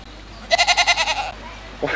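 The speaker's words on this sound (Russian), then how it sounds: "А тут козел жрать просит." A billy goat in Scotland lets out one loud, wavering bleat with a rapid pulsing quiver, close by, over faint background noise.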